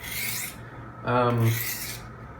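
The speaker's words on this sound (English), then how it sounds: "this India stone is going to do well is give you a very nice scratch pattern on your edge" Steel knife edge drawn across a coarse India sharpening stone, giving one short, close raspy scrape alone amid quiet room tone.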